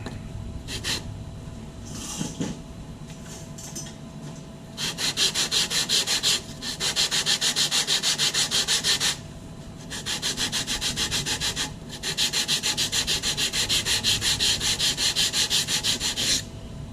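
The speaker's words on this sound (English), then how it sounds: "we're going to hit this a few more times with some of our 80 grit there" Coarse 80-grit sandpaper rubs across a composite fin in steady back-and-forth strokes, starting with a few light passes and then continuing in long, close, loud scratchy stretches broken by short pauses.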